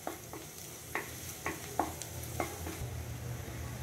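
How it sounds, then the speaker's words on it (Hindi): Finely chopped garlic and ginger frying in a pan, a steady low sizzle broken by several sharp stirring scrapes roughly every half second, close and alone. "अब हम इसमें डालेंगे 1 बड़ा चम्मच बारीक कटा हुआ लहसुन, 1 बड़ा चम्मच बारीक कटा हुआ अदरक। इसे हल्का सा भूनेंगे।"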